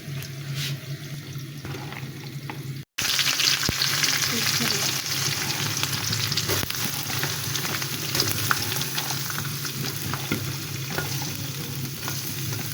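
Chopped onion hits hot oil already frying cloves, cardamom, cinnamon and bay leaves, giving a loud, steady sizzle that runs unbroken after a brief gap, with occasional stirring scrapes and no talk.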